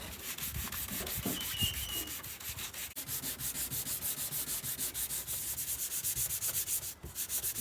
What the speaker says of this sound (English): So we're going to be wet sanding. I've got 320 grit paper